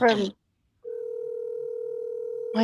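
Ringback tone of an outgoing telephone call on a talk program: one steady, clear electronic tone lasting under two seconds, with voices just before and after it.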